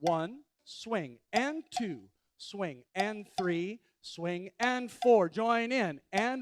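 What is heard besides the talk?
None of the usual background noises is heard.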